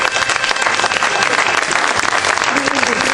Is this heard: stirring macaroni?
no